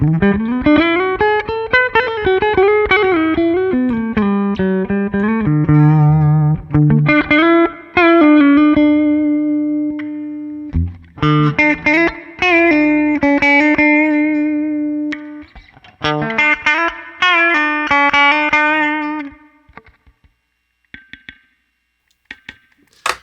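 Clean electric guitar from Glarry plays a melodic line with sustained notes and bends, then strummed chords and picked phrases, close and alone.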